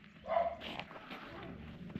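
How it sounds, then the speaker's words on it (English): Several dogs bark from behind a fence outdoors, a short burst of barking near the start followed by a lower, continuous outdoor background. "So we've got lots of dogs behind the fence"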